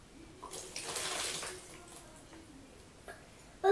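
Water poured by hand at home onto a bean experiment, a soft brief splashing pour rising then trailing off, with a small clunk at the end.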